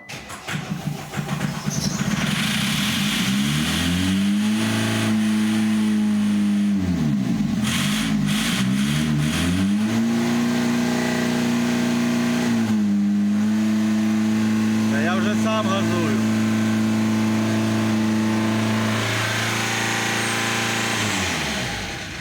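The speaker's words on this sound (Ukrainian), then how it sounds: "Ну що, фронтера працює?" Diesel engine of an Opel Frontera that would not start, now running with a steady idle that rises and falls in several revving swells before settling, close and loud, with people talking over it at times.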